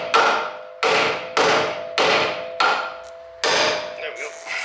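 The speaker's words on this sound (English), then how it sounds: "I normally wouldn't hit on the end of that bolt" Hammer blows striking the end of a bolt while replacing a front ball joint on a Lexus IS300 drift car: six sharp metallic bangs at roughly even spacing, each ringing briefly, loud and close, with no talking.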